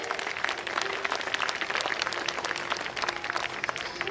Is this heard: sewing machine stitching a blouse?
no